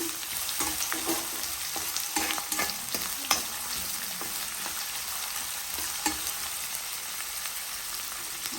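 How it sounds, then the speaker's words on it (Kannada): Chopped onions frying in oil for capsicum lemon rice, a continuous close sizzle broken by scraping clicks and taps of a spoon stirring the pan, with no voices. "ಆನಿಯನ್ ಹಾಕಿ ಈ ರೀತಿ ತಿರ್ಸ್ಕೊಡಿ"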